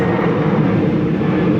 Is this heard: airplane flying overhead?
yes